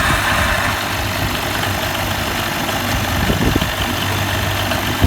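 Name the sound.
car engine started and idling after spark plug hole repair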